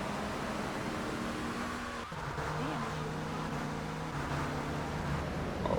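Car engine from GTA 3 Definitive Edition, a steady mid-level motor drone with shifting revs and a brief dip partway through, playing alone without talk.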